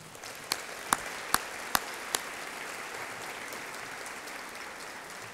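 An audience at a college president's address applauds steadily, a dense wash of clapping with a few sharp, louder claps standing out near the start.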